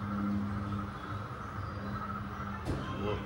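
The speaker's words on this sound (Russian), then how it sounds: "Поезд поехал, пассажирский." A passenger train sound effect plays in a model diorama museum showing Moscow and Russia, a faint rolling rumble with a steady hum that continues throughout, plus a brief sweeping whoosh near the end.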